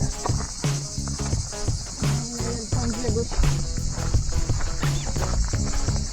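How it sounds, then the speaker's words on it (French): A loud, steady buzz of cicadas fills the air in Port Camargue, continuous and shrill, with footsteps and small clattering sounds underneath. "ils sont encore forts, les cigales"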